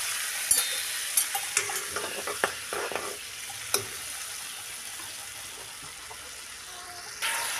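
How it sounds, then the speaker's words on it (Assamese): Turmeric, cumin and coriander powder frying in a pan, close and steady sizzling with a string of spoon taps and scrapes early on that then fade into a continuous hiss. "মছলাখিনি পূৰা ভাজি ল'লোঁ"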